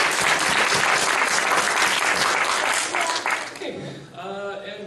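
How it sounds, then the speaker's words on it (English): An audience at an astronomy club meeting gives a hearty round of applause, loud sustained clapping that tapers off near the end as a voice begins speaking. "Just one more round of applause for everyone that came on the"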